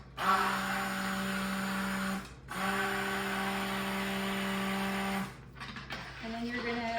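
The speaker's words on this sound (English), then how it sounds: "And then you're gonna mix it with the stick blender." An immersion stick blender mixing cold-process soap batter whirs in two sustained bursts separated by a short pause, loud and close, then settles into a lower hum.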